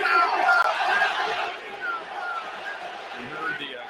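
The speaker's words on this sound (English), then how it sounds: "Crowd goes silent and now getting very loud at the Coliseum." A baseball crowd at the Coliseum roars loudly at first, then eases into a sustained, somewhat distant crowd noise with scattered cheers.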